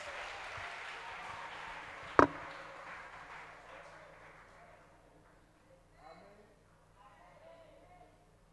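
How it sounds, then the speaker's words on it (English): A church congregation at a Christian camp plenary session claps together, making a dense, rushing wash of applause that fades steadily over several seconds, with one sharp crack near the start and voices faintly audible later. "Give a hand clap to Jesus."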